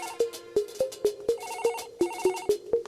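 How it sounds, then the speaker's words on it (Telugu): A phone ringtone plays alone, a rapid repeating pattern of sharp electronic tones, loud and close. "ఫోన్ మోగుతుంటే ఎవరు తీరేంట్రా?"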